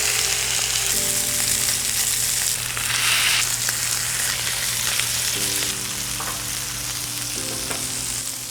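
Seasoned beef patties fry on a griddle with a loud, steady sizzle that runs the whole time, broken by a few brief scraping touches. No one speaks.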